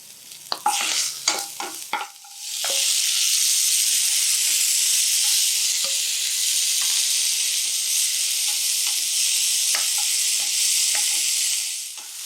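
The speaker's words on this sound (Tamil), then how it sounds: "இப்போது ரொம்ப குயிக்காக ஃப்ரை பண்ணணும்." Boiled karamani sundal with ginger and green chili paste hitting a hot pan, a few stirring clatters and then a steady loud sizzle that holds until near the end.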